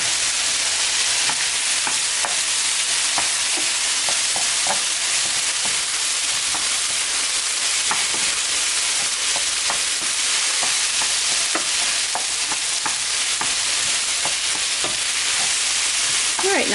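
Tomato paste stirred into a sizzling butter chicken pan: continuous loud frying hiss with a dense scatter of scraping, tapping stir sounds throughout, and no talking.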